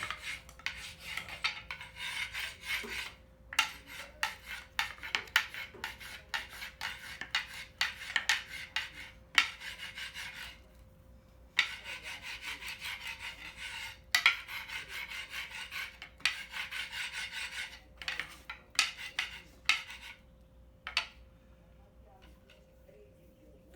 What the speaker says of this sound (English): we're going to want to give the binding a roll as well